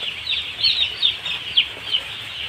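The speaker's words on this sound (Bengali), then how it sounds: "মুরগি আছে" Chickens in a shed on a poultry farm give a series of short, high clucks and peeps over a low background hum, fairly close, with no talking.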